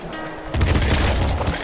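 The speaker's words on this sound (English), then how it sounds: "Triple machine gun." A triple machine gun firing in the game Nuclear Throne, a loud burst of rapid, dense gunfire that kicks in abruptly after a brief quiet and keeps going as a booming, continuous volley.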